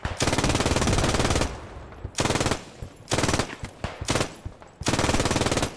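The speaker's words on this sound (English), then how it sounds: "I do not recommend you wield the MG42 from the hip" MG42 machine gun fired from the hip in the video game Post Scriptum, loud sustained rapid-fire bursts with short gaps, the long first and last bursts framing a few choppy shorter volleys.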